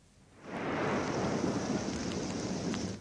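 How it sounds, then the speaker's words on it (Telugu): Heavy monsoon rain pours steadily in a dense, constant roar that swells in after a brief quieter moment and stays loud throughout. "రాష్ట్రమంతటా భారీగా వర్షాలు కురుస్తున్నాయి."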